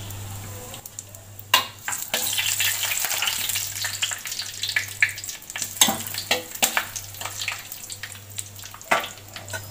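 Whole green cardamom pods, cloves and bay leaves fry in hot oil or ghee for a festival sweet rice dish, giving a steady close sizzle broken by sharp stirring scrapes and clinks, with a low hum underneath.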